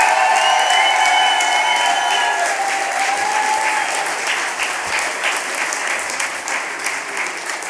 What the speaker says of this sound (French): Vous méritez ces applaudissements.